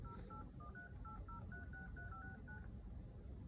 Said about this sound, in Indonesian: Gue telepon nomor gue nih yang ini.